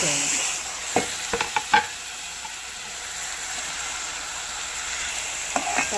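Home-grown tomatoes fry and get stirred in a pan, with a steady close sizzle and several sharp scrapes and clinks of the spoon against the metal.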